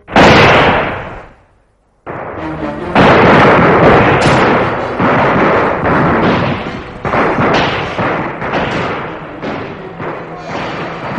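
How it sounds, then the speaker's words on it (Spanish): Radio drama gunfire effects of machine guns, rifles and revolvers: a loud opening shot, a brief silence, then sustained dense bursts of overlapping shots and thuds filling the rest of the clip. "Un solo disparo desencadenó descargas de ametralladoras, de rifles, de revólveres."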